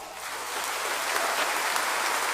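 Church congregation at a Simbang Gabi Mass breaking into dense, steady applause that fills the room, no talk over it.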